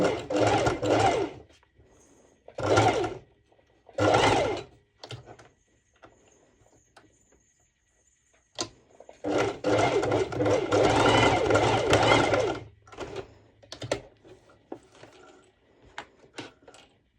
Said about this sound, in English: I'm sorry if I'm getting too close to my sewing machine.